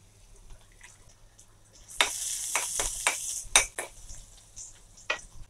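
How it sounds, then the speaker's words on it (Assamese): Crushed garlic hits a little oil in a wok where fish was just fried, bursting into loud spitting sizzles after a quiet start, with scattered crackles and utensil clatter. "কেৰাহীখনতে তেল অকণমান দি দিছোঁ এতিয়া মই থেতালি লোৱা নহৰু কেইটা দি দিম"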